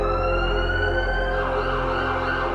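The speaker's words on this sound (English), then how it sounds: "continuous siren sounds from ambulances" Ambulance sirens wail loudly and continuously, steady tones overlapping with a shifting pitch partway through, close and with no talking.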